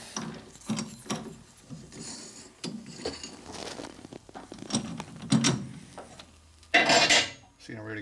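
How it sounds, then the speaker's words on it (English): Metallic clicks and scrapes of a threading die being worked down a fork rod from a 1942 Harley-Davidson WLA/WLC 45ci springer front end, with irregular ratcheting bursts and a louder rasping stretch near the end. "We're just going to run a die down this side here"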